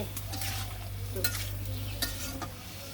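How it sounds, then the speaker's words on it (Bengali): Food sizzling in a pan after a splash of water, stirred with a utensil that scrapes and taps the pan several times over a steady low frying hiss. "একটু জল দিয়ে দিলাম একটু নাড়াচাড়া দিয়ে"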